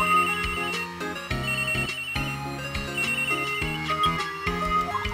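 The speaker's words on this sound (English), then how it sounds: "Oh, it's her cell phone." A cell phone rings inside a law office in the Ace Attorney video game, a bright electronic ringtone melody repeating steadily and loudly, playing alone with no voices.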